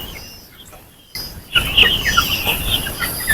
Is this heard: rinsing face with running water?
no